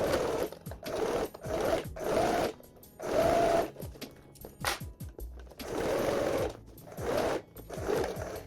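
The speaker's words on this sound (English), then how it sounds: "I'm going to try to sew this around here and then flip it through here." A sewing machine stitches a sling bag in short stop-start bursts of fast needle chatter, close and moderately loud, with quiet handling pauses between the runs.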